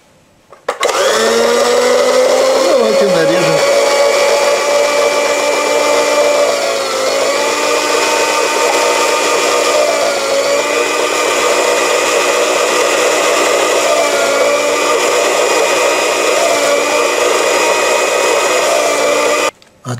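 An electric chopper or food processor motor whirs loudly and steadily as it dices onion for a Bavarian potato salad, spinning up with a brief pitch drop at the start and holding a constant high drone until it stops near the end, with no talking.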